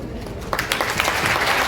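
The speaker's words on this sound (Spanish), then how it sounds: "Agradecemos con este fuerte aplauso" An audience breaks into applause at the close of a morning talk about La Tigra National Park, a burst of clapping that starts abruptly and stays full and steady to the end.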